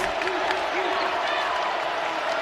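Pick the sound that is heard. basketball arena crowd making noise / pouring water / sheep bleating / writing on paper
basketball arena crowd making noise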